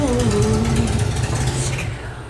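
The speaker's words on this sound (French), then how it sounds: "Allez, encore des motos." Motorcycles pass nearby, their engines loud at first with a falling pitch as they move away, fading toward the end.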